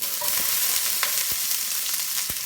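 Onions dropped into hot, smoking wok oil sizzle steadily in a dense, close hiss, with a few brief stirring clinks over the continuous frying.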